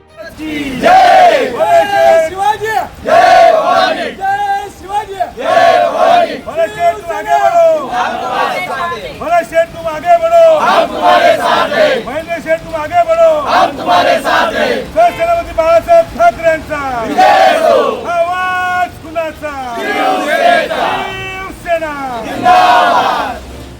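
Shiv Sainiks celebrate in Khopoli with the municipal council president as Bharatsheth Gogawale becomes Raigad's guardian minister: a large crowd chants and cheers loudly and continuously, rising and falling in rhythmic surges from start to finish.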